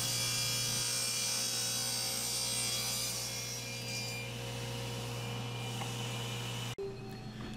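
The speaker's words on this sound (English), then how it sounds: "I'll go ahead and cut a test spline and see if it fits in." A table saw rips a thin purpleheart test spline with the fence set near an eighth of an inch, a steady close motor hum and blade whine with a gritty cutting texture, then an abrupt stop near the end.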